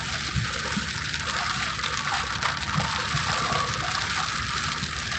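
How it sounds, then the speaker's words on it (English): Rain from a passing sun shower hits a car while it drives, a steady hissing wash of drops on the glass and roof that stays even throughout. "Sorry for the rain, guys."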